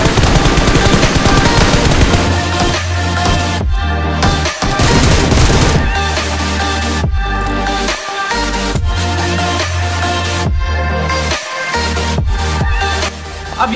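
Sustained gunfire in the mobile battle royale BGMI, loud bursts of rapid shots with heavy low booms and short gaps, layered over a constant game sound bed, with no talk.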